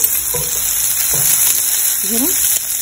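Onions frying in a pan for a gorichikkudu (cluster bean) curry, a continuous bright sizzle with occasional stirring scrapes, while a voice talks faintly over it.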